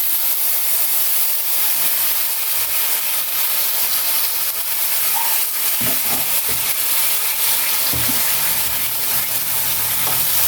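Tomato sauce poured into a hot pan for momos chutney sizzles and hisses steadily, a loud, continuous frying sound with occasional stirring clatter.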